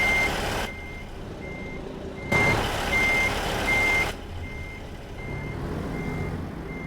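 A truck's reversing beeper in the American Truck Simulator video game sounds a steady series of evenly spaced high beeps over a low engine rumble, with bursts of broader noise coming and going.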